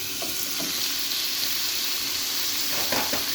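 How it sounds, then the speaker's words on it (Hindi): Chicken hits a pan of frying garlic and ginger and sizzles loudly and steadily, with the scrape of stirring and a few soft clatters near the end. "लहसुन अदरक हमारा ब्राउन हो गया है, लाइट उसका कलर चेंज हो गया। अब हम इसके अंदर डालेंगे चिकन।"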